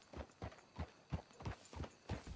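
Horse hooves clip-clop at a steady trot in Red Dead Redemption 2, with about eight evenly spaced, fairly close thuds heard alone.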